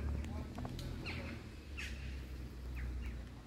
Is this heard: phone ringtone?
no